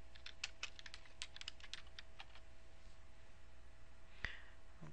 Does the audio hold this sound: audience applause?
no